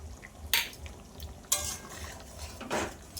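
Ground garam masala stirred into fish roe curry in a pan, with three sharp scrapes and clinks of a spoon against metal over a faint simmer.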